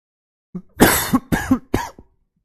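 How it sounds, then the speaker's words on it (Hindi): Three harsh coughs in quick succession, close and loud, with a short throat sound just before them. "खांसी देख रहे हैं आप, सुन रहे होंगे।"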